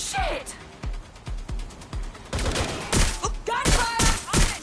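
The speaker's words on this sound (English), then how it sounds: "Gunfire!" Bursts of gunfire in the video game Watch Dogs: Legion crack repeatedly, fast volleys with sharp echoing shots, while someone talks excitedly over the shooting.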